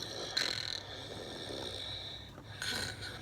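A person imitates snoring during a guess-the-sound game between siblings, giving two rasping snore-like breaths, one early and one near the end, with quieter breathing between them.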